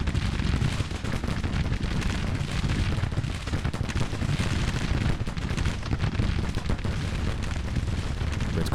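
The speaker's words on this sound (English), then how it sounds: "Let's go have a shooting match with these gents." Civil War cavalry carbines fire in Grand Tactician as a dense, continuous crackle of overlapping shots. Heavy low rumble runs steadily underneath throughout, with no talk.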